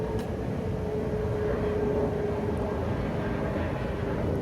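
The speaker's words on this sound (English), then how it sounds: "I'll wait till the airplane goes overhead." An airplane passes overhead as a broad, continuous distant roar with a faint steady tone, holding even for several seconds with no speech.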